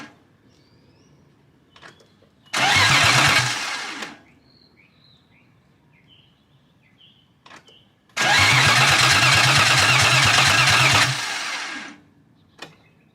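A BMW M52 engine, freshly swapped into an E36, is cranked twice but fails to start: two loud bursts of steady starter churning, about one and a half seconds and then three seconds long, with quiet pauses between.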